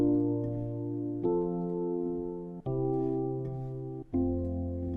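Four sustained chords move back and forth between tonic, subdominant, tonic and dominant, each held just over a second with a soft attack at every change. The chords are played on a keyboard-like instrument, quiet and unaccompanied.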